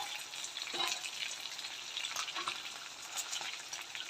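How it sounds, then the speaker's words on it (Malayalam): Kerala-style tilapia fish frying in oil over a low flame, giving a continuous soft, even sizzle throughout with faint crackles and no talking. "നന്നായിട്ട് ഫ്രൈ ആവട്ടെ."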